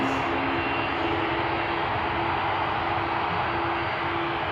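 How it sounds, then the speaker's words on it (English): An Airbus A320neo departs Amsterdam Schiphol's Polderbaan runway, its engines a steady, loud, broadband roar with a faint tonal hum, heard alone throughout. "A320neo going to Manchester."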